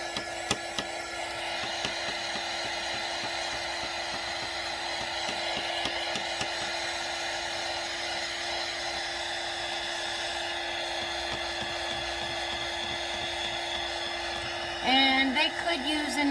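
Hair dryer blowing a steady whirring hum over painted straw hearts, close and constant, with a small shift in tone near the end.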